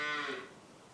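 A single cow moo, loud and close, swelling briefly and then fading out over about a second with no voices.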